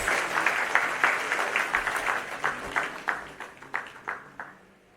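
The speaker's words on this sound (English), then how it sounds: "Let us have a huge round of applause for all the winners." An audience at a national conference inauguration claps in a burst of applause, loud at first and then thinning to scattered claps that fade out.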